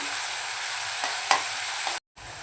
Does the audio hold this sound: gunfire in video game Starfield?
no